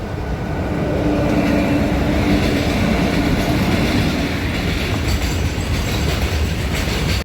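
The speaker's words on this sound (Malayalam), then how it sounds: "ഇതാണ്ടോ ട്രെയിൻ വരുന്നുണ്ടോ" A train passes close by with a loud, continuous rumble and rhythmic clickety-clack of wheels on rails. It holds a steady roar for several seconds, and no one speaks over it.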